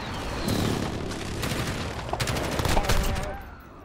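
Video game battle audio of an enemy precision airstrike, with rapid gunfire bursts and booming explosions layered into a dense, loud, continuous barrage, with a voice briefly audible beneath.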